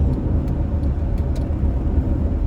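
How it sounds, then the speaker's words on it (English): A car produces a persistent low, rumbling drone with faint intermittent higher ticks, heard from inside the vehicle at fairly strong level, with no talk over it. "car's doing something weird"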